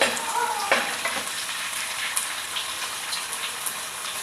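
Mustard seeds and garlic frying in hot oil, a continuous crackling sizzle with a few spoon scrapes and faint background hum throughout.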